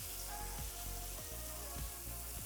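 Chicken pieces frying in a hot pan for chicken mozzarella, a steady close sizzle with a few soft scrapes and taps as pieces are turned over.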